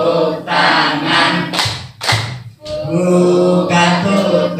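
A group claps hands during a sung hand-play rhyme at a community health session in Sidareja; a few sharp claps land briefly partway through, partly masked by the singing voices.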